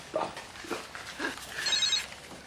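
A telephone rings with short, bright electronic trills that come clearest near the end of the moment, moderately loud amid quiet room sound.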